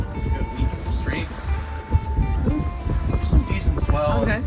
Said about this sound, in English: I see some waves breaking over there.